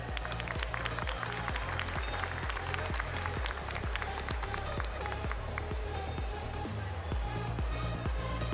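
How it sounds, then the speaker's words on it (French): A crowd applauds a young championship prize winner at a Tarentaise cattle show, steady clapping filling the space under a thumping rhythmic background with some voices. "On applaudit encore une fois Romy pour ce prix de championnat jeune."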